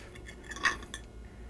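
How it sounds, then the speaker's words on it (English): A fork clinks and scrapes against a plate while gathering shrimp scampi pasta, giving a few faint, close metallic taps with one brighter ring in the middle. "Gonna get a bit of my pasta on my fork here."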